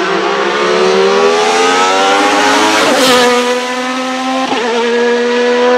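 Alfa Romeo 155 TI V6 race car in Assetto Corsa, its naturally aspirated 2.5-litre V6 screaming at high revs, climbing steadily with brief dips between gear changes, loud and continuous with no talk.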